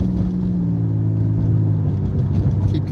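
A car's engine drones steadily from inside the cabin during a driving lesson, a loud, even rumble with a low hum that holds nearly constant as the car gradually accelerates.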